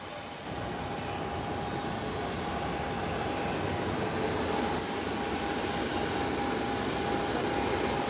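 United airliner engines rumbling steadily at an airport during taxi or takeoff roll, a broad continuous roar heard from a distance with a constant whine above it.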